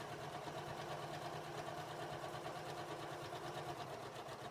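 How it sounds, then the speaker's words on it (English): A serger sewing machine stitches a seam on scrap fabric, a steady fast mechanical whirring hum with rapid ticking, continuous and fairly faint throughout. "And I'm just going to sew my 5/8 seam allowance."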